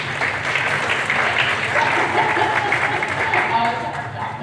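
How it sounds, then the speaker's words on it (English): Applause at a candidates' forum run by the League of Women Voters, a steady wash of clapping hands from the crowd, moderately loud throughout with no pause. "big round of applause for our timer who is multitasking"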